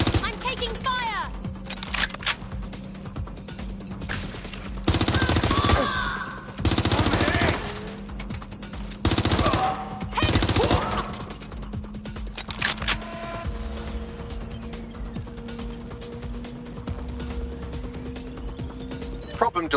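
Bursts of gunfire in the video game Watch Dogs Legion, loud repeated volleys in several clusters over a steady background hum, with voices talking.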